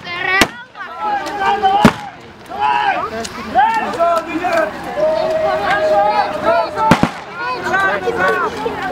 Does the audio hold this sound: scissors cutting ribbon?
no